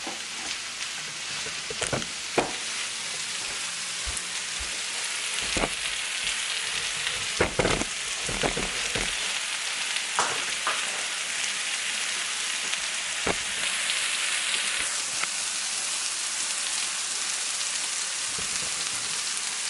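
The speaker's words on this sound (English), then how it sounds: "I'm going back to stir the mixture on the stove" Frittata mixture of egg, mushroom and onion sizzling steadily in a pan on the stove, with occasional sharp scrapes and taps of a utensil stirring it. No one speaks.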